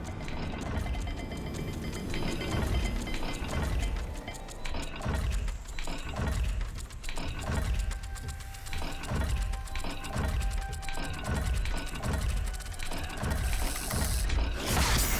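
A mechanical dial in the video game Hogwarts Legacy turns with a run of ratcheting clicks, grinding and whirring steadily under a low ambient rumble, ending in a brighter shimmer.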